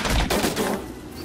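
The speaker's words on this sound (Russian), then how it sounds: "Цепная реакция. Цепные взрывы пошли." Balloons burst in a rapid chain of explosions in the video game Don't Starve, a dense volley of sharp pops that thins and fades over about a second.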